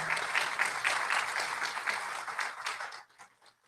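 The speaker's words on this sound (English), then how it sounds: "You can applaud." Audience applause at a mayoral debate in Hickman, a steady patter of many hands clapping that holds for about three seconds, then thins out to a few scattered claps before fading.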